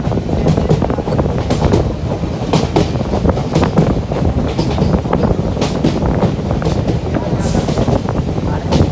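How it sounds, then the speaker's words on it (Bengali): A train slowly pulls into Dehradun station, a steady, loud and close rumble of wheels and carriages with rattling clatter and wind buffeting throughout. "যে এখন আমাদের ট্রেন ধীরে ধীরে হচ্ছে দেরাদুন স্টেশনে ঢুকতেছে"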